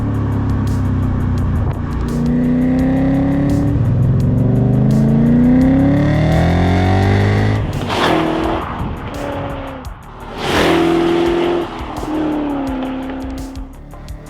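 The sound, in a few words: BMW E39 M5 car engine driving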